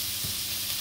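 Steady sizzling hiss of eggs frying in a hot pan, constant and fairly loud, with no talking.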